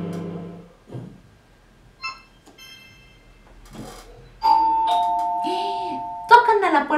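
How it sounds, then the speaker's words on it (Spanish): A doorbell rings with a sustained electronic chime after a few scattered clicks, then a second brighter ring follows; someone speaks briefly beforehand. "Ese es el timbre."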